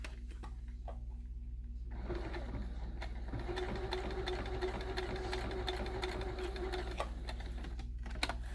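A sewing machine stitches a triangle on a leather pocket in a steady, fast mechanical run near the mic, starting after a quiet moment and running continuously to the end.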